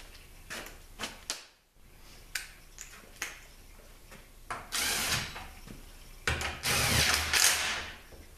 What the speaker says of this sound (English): Just gonna put two bolts back in here temporarily.